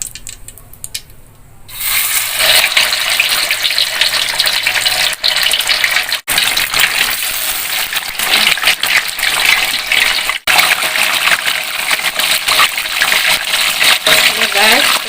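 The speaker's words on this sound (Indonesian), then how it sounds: "Goreng ya guys, minyaknya sudah panas." Pempek fish cakes, soft Palembang-style sutra pempek, frying in hot oil: a loud, steady sizzle starts about two seconds in and roars on without a break, with a couple of brief dips.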